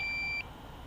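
A steady high electronic beep from FPV drone goggles sounds alone for about 0.4 seconds and cuts off abruptly, leaving faint background hiss.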